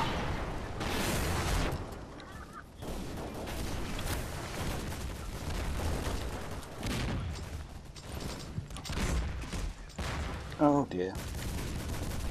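Explosions and gunfire crackle throughout a chaotic round of the action shooter game Double Action Boogaloo, with a dense layered barrage and bursts under a player's brief exclamations.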